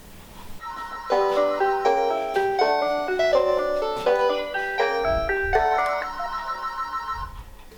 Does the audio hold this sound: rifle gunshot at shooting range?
no